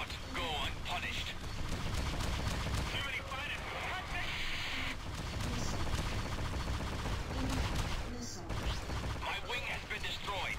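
Spaceship weapons firing in the space combat video game Freelancer, heard as dense, continuous blasts and crackling shots layered over a busy, loud game soundscape, with a brief drop near the end.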